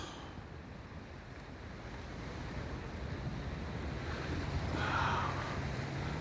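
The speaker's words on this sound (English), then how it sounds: "You can kind of see the waves crashing in." Ocean surf rolling onto the shore at Coconut Island in Hilo, Hawaii, a steady broadband wash with strong wind buffeting the microphone, swelling slightly louder toward the end with no voices.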